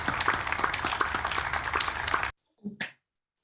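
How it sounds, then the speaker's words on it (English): Scattered applause for retiring city employees at a partly virtual city council meeting, a few people clapping unevenly for about two seconds before it cuts off abruptly, followed by faint brief sounds. "let's give them one more round of applause and thank them for their service"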